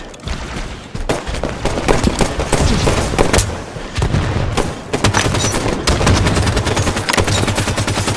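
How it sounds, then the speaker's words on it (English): Rapid assault rifle bursts in Halo 5 multiplayer, loud and close, crackling in dense strings with brief gaps and overlapping distant shots, layered with game effects. "How did that dude have so many bullets in his AR?"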